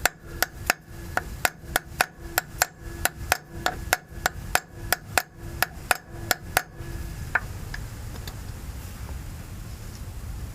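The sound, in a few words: hammering a bolt out with a brass drift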